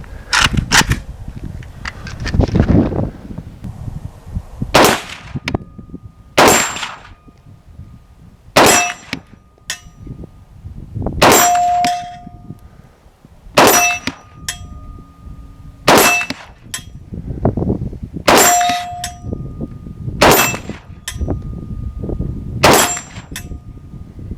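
An AK-74 rifle in 5.45 fires about ten evenly spaced shots outdoors, each a sharp crack followed by the bright metallic ring of a struck steel target, spaced roughly two seconds apart.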